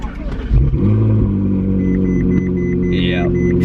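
A car engine starts up and settles into a loud, steady low rumble close by, its exhaust note coming from the rear of the car.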